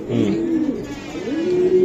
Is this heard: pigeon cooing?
yes